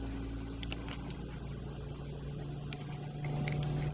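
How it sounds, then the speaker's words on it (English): Airbus A320 engine spooling up during startup in a flight simulator game: a steady, loud mechanical drone with low hum and rising whine that swells slightly near the end, with no talking. "now start with engine 2, and then you should hear a very fabulous sound that the Airbus provides, like a real aircraft"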